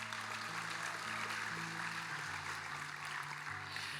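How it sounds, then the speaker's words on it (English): Audience applause at a coronation ceremony for local ambassadors, a sustained crowd of clapping that holds steady for several seconds without speech, with a faint low hum under it. "Let's give them all one more round of applause."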